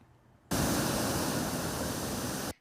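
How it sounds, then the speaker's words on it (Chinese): Night-time typhoon swells from Typhoon Koinu crash onto concrete tetrapods at Fugang fishing harbor in Taitung, a sudden loud roaring wash of surf that holds steady for about two seconds and then cuts off. "海浪一波波冲上消波块，台东富冈渔港出现阵阵长浪"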